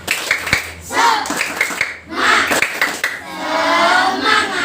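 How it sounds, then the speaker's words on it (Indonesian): Children in Indonesia perform a rhythmic spirit clap, with sharp, patterned hand claps in bursts and pauses, mixed with the group's chanting voices. "Tepuk semangat."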